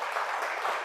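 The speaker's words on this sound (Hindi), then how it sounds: "एक बार इनके नाम की तालियां जरूर होनी चाहिए।" Audience applause for a poet at an Urdu shayari and ghazal recital, a brief steady wash of clapping heard alone at moderate level.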